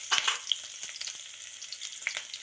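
Potatoes frying in a pan make a soft, close sizzle broken by a few quick crackles and stirring clicks, fairly quiet and alone.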